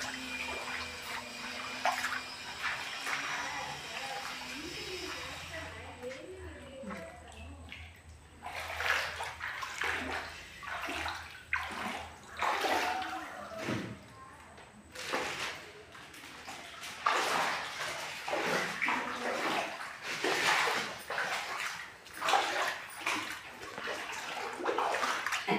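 Water sloshing and splashing as it is bailed out of an Anganwadi building flooded by a cyclone, with repeated scoops and pours in an irregular rhythm, close and fairly loud.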